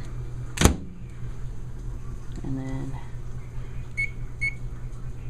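An old microwave oven door shuts with one sharp, loud thunk, and then the oven starts running with a steady low hum and a rattling whirr. A person speaks briefly near the start.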